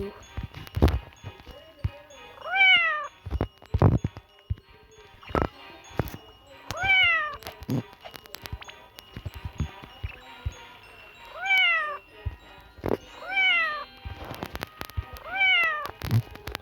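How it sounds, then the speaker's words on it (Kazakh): Several cats meow in repeated rising-falling calls at irregular intervals, close by, mixed with thumps and handling knocks. "Уже мысықтарымыз"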